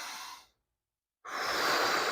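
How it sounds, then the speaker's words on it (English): A deep breath drawn in through the nose during relaxation-focused self-massage of the upper arm, a soft airy rush that fades out, a short silent pause, then a longer, louder breathy stream, close to the mic with no talk. "It is deep breathing in through the nose,"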